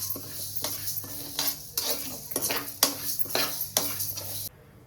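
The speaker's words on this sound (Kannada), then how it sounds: "ಇದನ್ನು ಲೈಟಾಗಿ ಫ್ರೈ ಮಾಡ್ಕೋಬೇಕು, ಆಮೇಲೆ ಸೀದೋಗ್ಬಿಡುತ್ತೆ. ಸೀದೋಗುತ್ತೆ, ಕೈ ಆಡಿಸ್ತಾ ಇರಬೇಕು." Ragi mix ingredients lightly fried in a pan, a continuous soft sizzle broken by repeated scraping strokes of a spoon against metal, roughly one every half second, close and fairly loud.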